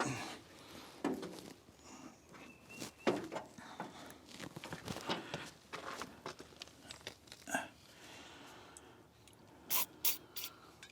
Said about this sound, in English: I'm also gonna spray a little bit of lube on top of that